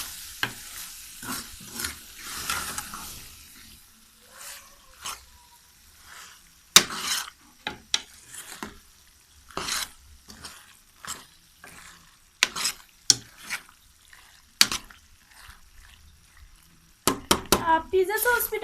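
Vegetables stirred and frying in a pan with micronis, repeated scraping strokes of a spoon against the pan over a soft sizzle, close by, with intermittent talking.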